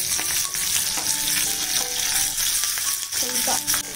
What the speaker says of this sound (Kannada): ಇವಾಗ ಇದಕ್ಕೆ ಒಗ್ಗರಣೆ ಹಾಕೊಳ್ತೀನಿ